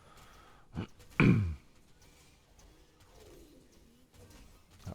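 A brief, low stomach growl gurgles and slides downward in pitch in a quiet room, just after a single spoken word.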